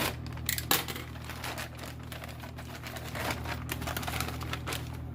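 Packaging for a Tesla-style screen unit for a 2009–2011 Honda Pilot being cut open, giving dense crackling plastic and rustling noise with sharp snips, close and fairly steady throughout.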